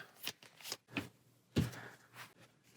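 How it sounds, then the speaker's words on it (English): Aeons End Legacy board game cards being shuffled in a few quick riffling bursts with brief pauses between them, close and fairly quiet, with no talking. "Then shuffle all the ones with a 2 on the bottom."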